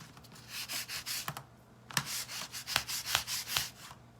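A painted Dollar Tree craft window is being sanded by hand, giving a rapid series of close, rasping back-and-forth strokes in a steady rhythm with a few sharper scrapes, and no talk over it.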